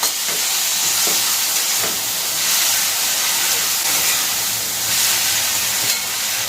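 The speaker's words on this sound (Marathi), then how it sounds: "आता हे सगळं थोडं शिजवून घ्यायचं आहे आपल्याला" Vegetables with onion, tomato, salt and curry leaves cook in a kadhai for homemade vegetable masala noodles, giving a steady close hiss and sizzle with faint stirring knocks and no talk.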